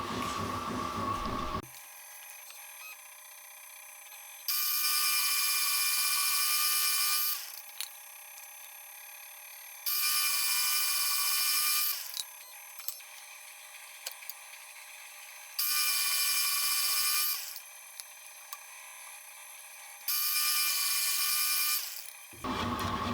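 A drill press bores holes in wood with a 1 inch Forstner bit, running in four loud, steady bursts of a few seconds each, separated by the lower hum of the idling machine.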